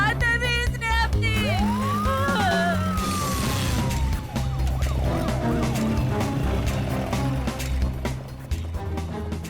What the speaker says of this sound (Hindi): अरे मनी, तुमने दो एम्बुलेंस को फोन किया था क्या?